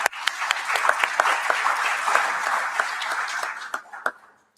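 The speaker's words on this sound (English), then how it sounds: "Please join me in giving Hina a round of applause." Conference audience applauding a speaker at a global gathering on AI, security and ethics, a dense steady round of clapping from a large hall that swells, holds for a few seconds and fades out.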